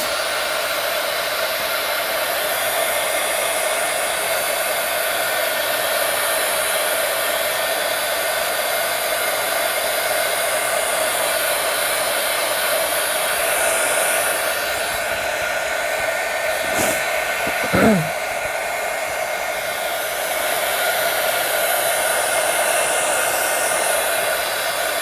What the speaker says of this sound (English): I'm just doing the heat gun for the sake of the video.